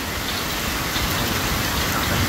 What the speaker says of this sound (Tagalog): Yung ulan may kasamang yelo kaya sumilong muna kami.